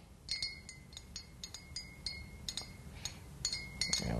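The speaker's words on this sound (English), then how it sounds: "take your spoon, stir it up" A spoon stirs powdered sugar into a First Frost mixed drink in a glass, making quick, light, bright clinks against the sides in an uneven rhythm, close up and alone.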